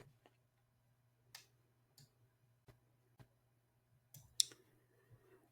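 A computer mouse is clicked during an online device registration. A handful of faint, sparse clicks sound against a low steady hum, with one louder click near the end.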